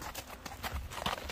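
Hooves of a horse being walked for sale at Özgön, a run of close, distinct clip-clop steps in an uneven rhythm, with faint background murmur.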